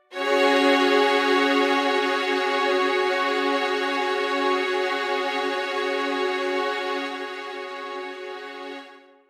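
Sustained string voice on a Yamaha Motif X8 synthesizer, a rich harmonic chord held steadily for about nine seconds at even loudness, then fading slightly toward the end, with no talking.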